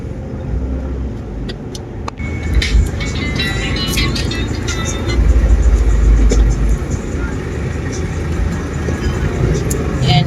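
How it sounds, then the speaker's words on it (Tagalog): Slow highway traffic on Quirino Highway, with buses and cars rumbling past at low speed, a steady loud engine and road roar swelling as heavier vehicles go by, with occasional faint higher clatter. "Yan, ito yung mga bus na papunta ng Commonwealth."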